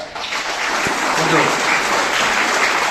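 Students at a school Kannada Rajyotsava celebration clap for their headmistress, a dense, steady crowd applause filling the full three seconds under a brief spoken word.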